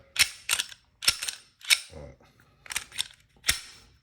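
Slide of a Glock 43X pistol racked and worked during a clear check, about seven sharp metallic clacks and snaps in an uneven rhythm, close and distinct with no voices.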